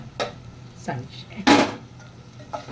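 A spoon stirs chicken curry in a cooking pot, giving a few separate short scrapes and clinks against the metal, spaced about a second apart at moderate loudness, with no voices.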